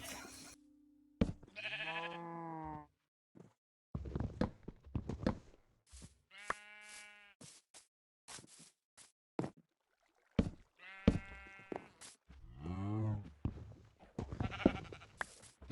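Goats in the Minecraft video game bleat repeatedly, each wavering cry standing alone between short silent gaps, clear and fairly close, with no talking.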